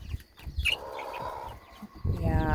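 Chickens in a backyard flock cluck and squawk close by, with a sharp call and a brief crowing-like note among the bursts, a newly introduced white bird among them.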